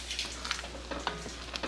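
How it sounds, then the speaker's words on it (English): Thick jam at a full rolling boil in a pot, popping and bubbling close up in short irregular bursts while a spoon scrapes and stirs through it, with no talking. "Okay, we are at a full rolling boil. Can you see? It's boiling. Even though I'm stirring, it's just bubbling right up."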